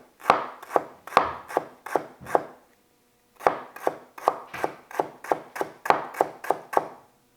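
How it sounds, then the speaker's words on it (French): A knife chops lemongrass finely on a board for a Cambodian yellow curry paste, a run of five sharp, evenly spaced thuds, a short pause, then a faster steady series of close, crisp strikes. "il faut vraiment essayer d'hacher assez fin, puisque le but du jeu, ça va être de piler ensuite la citronnelle"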